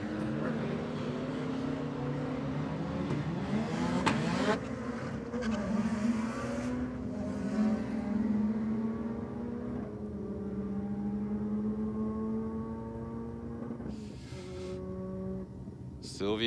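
Nissan Silvia 2-litre drag race car revving hard and accelerating down the strip, rising engine tones sweeping up through the gears, heard at a distance with a commentator talking over it.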